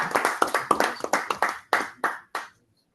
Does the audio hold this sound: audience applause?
yes